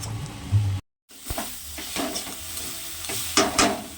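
Gadha moni greens with prawns, potato and salt sizzle in a hot pan while a utensil scrapes and stirs in uneven strokes, with a brief silent gap near the start.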